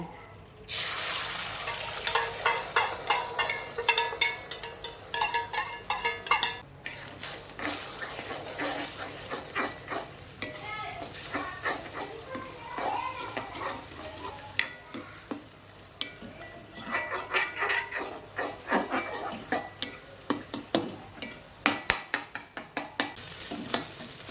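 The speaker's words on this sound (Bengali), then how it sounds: "ডিমটাকে একটু ভেজে নেব" Steady sizzling of an egg frying in hot oil in a pan, with repeated scraping and clinking of a utensil stirring, continuous and close.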